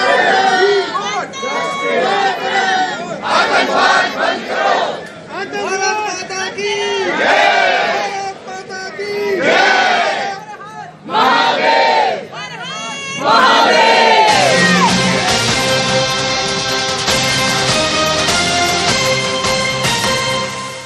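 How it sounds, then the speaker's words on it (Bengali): A large crowd protesting outside the Pakistan High Commission in London chants slogans loudly in repeated rhythmic bursts, with shouts rising and falling, then a denser, sustained roar of voices. "তাদের বিরুদ্ধে দেখুন স্লোগান উঠছে"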